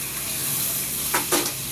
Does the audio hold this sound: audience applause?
no